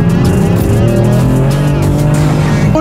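A BMW M4 roars hard under full throttle on a racetrack, its loud engine note holding steady and close throughout, with faint tire noise underneath.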